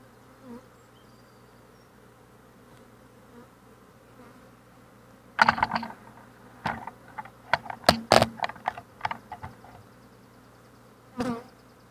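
Honeybees buzz around a beehive frame lifted during an inspection; a faint hum gives way to a cluster of loud, close buzzing passes in the middle, then one more burst near the end.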